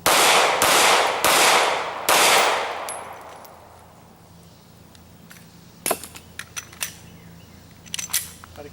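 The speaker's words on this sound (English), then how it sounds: "I want him to shoot targets with 2 to the body and 1 to the head." Four loud gunshots crack in quick succession at a shooting range as targets are engaged, followed by a lull and then a scatter of sharper, quieter clicks and impacts.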